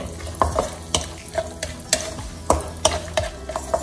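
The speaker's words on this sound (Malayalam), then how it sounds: "ഇനി നമ്മൾ ഇതിലേക്ക് ഈ റൈസിൻസും കൂടെ ഇട്ട് ഒന്ന് ഇളക്കിയെടുക്കണം" Nuts and raisins frying in ghee are stirred in a pan, with a steady soft sizzle broken by regular sharp scrapes and taps of the spoon against the metal.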